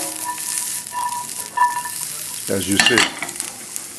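Asparagus sizzles and crackles in a pan over a very high flame, with a brief burst of louder stirring and frying noise in the middle before it settles back to a steady sizzle.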